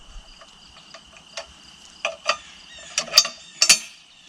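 Tree-felling support tool with a claw head being shifted 90 degrees, giving a run of light metallic ticks and clicks that grow into sharper, louder clacks near the end, close by with no talk.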